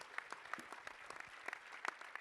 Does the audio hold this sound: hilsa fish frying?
no